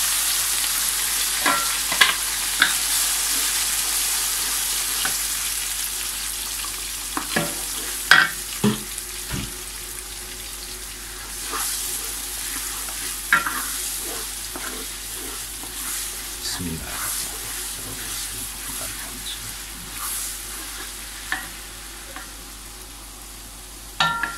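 Blended sambal paste frying and sizzling in a pan for squid sambal, a steady soft hiss broken by repeated scraping stirs at irregular intervals, close and without talk.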